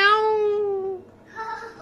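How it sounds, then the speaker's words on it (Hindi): A cat meows once in a long, drawn-out falling cry close by, then a shorter second call follows after a brief pause. "वो बिल्ली आ रही है।"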